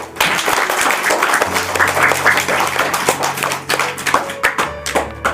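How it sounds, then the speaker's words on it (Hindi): Children applauding in a classroom, dense rapid clapping from a group that holds steady, then thins into separate claps near the end, with a low hum underneath. "तो तालियां।"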